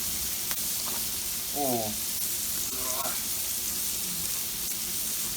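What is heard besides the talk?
New York strip steak sizzling on Blackstone griddle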